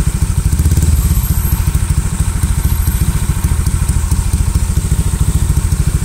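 An old Honda Vario 125 scooter with a stroked and bored-up engine, standard ECU, idling close to the microphone with a loud, rapid, even thumping pulse and a slightly clattery, crackling edge, steady throughout with no speech.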